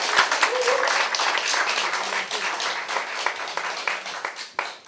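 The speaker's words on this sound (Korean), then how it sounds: "수고해주신 경기도당 임원 후보 세 분께 모두 큰 박수 부탁드리겠습니다" Audience at a Jinbo New Party Gyeonggi provincial chapter campaign rally applauding, a dense steady clapping sound filling the room for several seconds before tapering off near the end.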